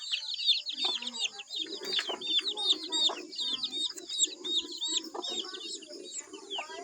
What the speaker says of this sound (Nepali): कुखुराको चल्ला